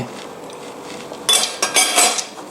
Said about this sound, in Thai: คลุกเคล้าให้พอเข้ากันฮะ